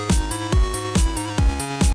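Drum beat layered over a synth intro loop for a video game soundtrack: punchy kick and snare hits alternating in a steady quick pattern with bright cymbal accents, close and clean, no voices.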